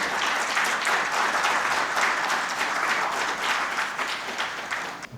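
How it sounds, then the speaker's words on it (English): A loud, sustained round of applause fills a hall at an education conclave, many hands clapping densely and evenly before dropping off at the very end. "Can we have a loud round of applause for him, please?"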